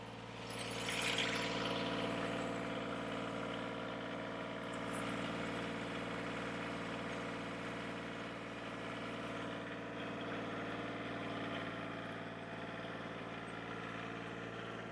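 A small tractor engine idles steadily with a low, even rumble and faint rattling hum, continuous and moderately close, no voices.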